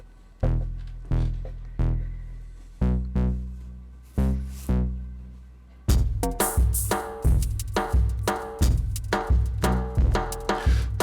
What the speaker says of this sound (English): So that's the drum and bass basically.